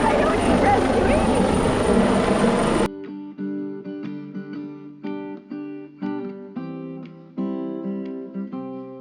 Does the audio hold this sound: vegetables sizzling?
no